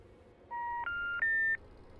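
Three rising telephone keypad dialing tones, each held about a third of a second, play in a clean steady sequence over faint background hiss with no voices.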